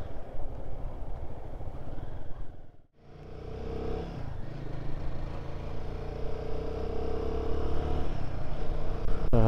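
A Royal Enfield Guerrilla 450 motorcycle engine is ridden and revved past 4,000 rpm, a loud close rumble that dips briefly as the throttle is closed and then climbs steadily in pitch and volume.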